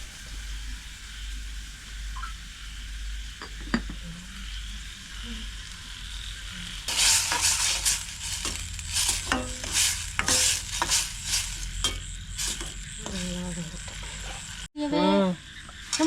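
Ground tomato sautéing in a pan in a village kitchen, a steady sizzle with bursts of stirring and scraping in the second half, and a short louder clatter near the end.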